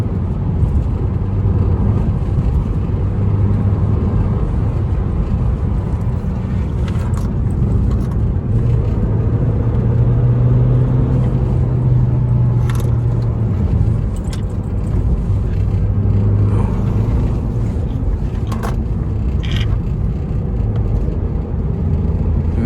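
Peugeot RCZ accelerating through a bend, heard from inside the car as a loud, steady engine drone with rising and falling tones that continues throughout without speech.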